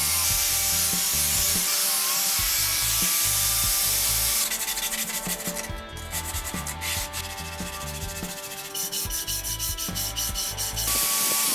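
Sandpaper rubbed by hand along the sides of a wooden axe handle cut from rough stock, giving a steady close scratchy rasp in repeated strokes throughout, with no talk.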